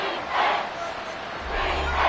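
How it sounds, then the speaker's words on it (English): A football stadium crowd cheering and roaring loudly, swelling in two waves, with a low rumble underneath. "This crowd turning up the decibel level."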